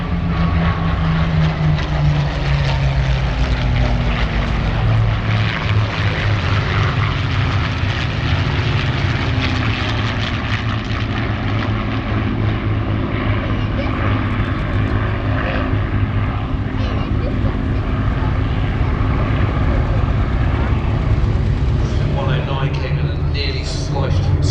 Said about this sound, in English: so you recognise that sound as a Merlin